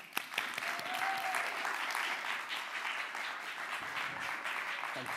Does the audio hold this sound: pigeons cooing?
no